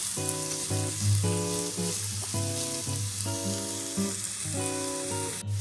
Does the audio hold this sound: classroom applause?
no